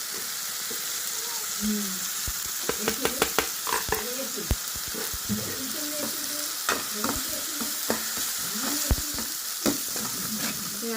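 Chicken pieces sizzle and fry in a pan while being stirred, steady frying hiss with repeated sharp scraping clinks of a spoon against the pan, close and clear, with faint talk.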